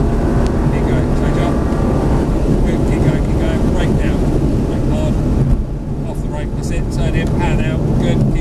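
An Aston Martin DB9 engine roars under full-power acceleration, a loud, constant deep drone from inside the car with heavy wind and road noise and a voice talking over it.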